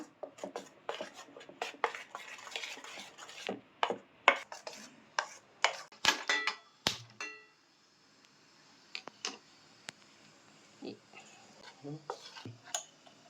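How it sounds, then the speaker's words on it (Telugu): Rhythmic scraping and stirring of motichoor laddu batter in a bowl, mixed smooth without lumps, repeated close strokes that pause briefly and then resume more softly. "ఇలా స్మూత్గా ఎటువంటి ఉండలు లేకుండా కలుపుకోవాలండి బాగా."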